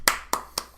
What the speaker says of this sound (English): audible shaking of the hand here